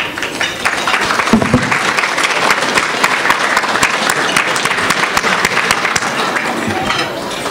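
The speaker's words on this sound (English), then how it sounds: "a round of applause for yourself." Audience at a 30-year community success celebration giving a round of applause, dense continuous clapping filling the hall, loud and steady, tapering slightly near the end.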